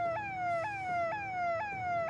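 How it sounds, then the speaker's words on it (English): Police sirens wail in repeated rising-falling sweeps, steady and fairly distant, with no voices over them. "The sound of police sirens starts in the distance."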